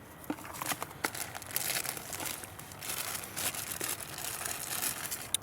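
A plastic weather bag from a letterboxing box is handled up close, with continuous crinkling and rustling and occasional sharper crackles throughout.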